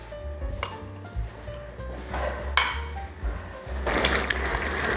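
Cream sauce with parmesan cooking in a pan, soft sizzling and bubbling broken by stirring and clinks of utensils against the pan, growing louder toward the end, with no talking.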